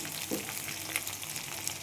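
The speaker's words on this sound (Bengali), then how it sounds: "দেখো আলুটাকে ভেজে নিই" Potatoes frying in a kadai of mixed refined and mustard oil, giving a steady, low-level crackling sizzle with a few brief spits and pops.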